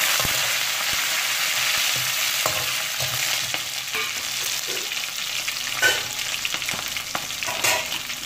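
Curry leaves and green chillies frying in hot oil, with a continuous close sizzle, intermittent stirring knocks and clicks of a utensil against the pan, and no talking.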